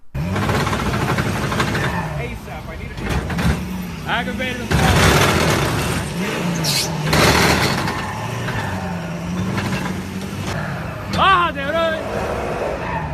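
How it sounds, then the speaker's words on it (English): A truck under repossession is driven off by its owner, its engine running and revving amid a noisy scene, with excited shouting voices over the motor throughout. "This truck was being repossessed when the owner jumped in and tried to drive away."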